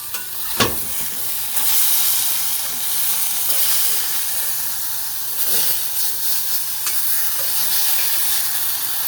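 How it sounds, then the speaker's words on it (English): Sausages sizzle steadily in a hot pan, a continuous close frying hiss with a few brief sharper crackles and spits, and no one speaking. "Then, sausage on to cook."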